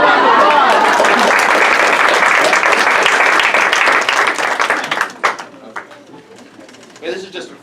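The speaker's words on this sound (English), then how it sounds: "Give Ruby a round of applause" An audience at a magic show breaks into loud, close applause that holds steady for about five seconds, then thins out into scattered claps as a voice speaks.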